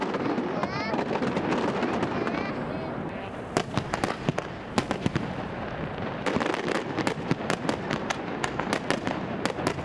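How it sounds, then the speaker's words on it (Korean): Fireworks burst over a village holiday celebration, a dense rapid stream of sharp pops and crackles layered over a steady roar, with cheering crowd voices mixed in throughout. "화려한 불꽃이 터질 때마다 개성과 탄성이 교차합니다."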